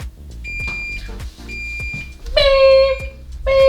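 A new heat press timer sounds loud, sustained electronic beeps in two bursts toward the end, preceded by fainter high tones over background clatter.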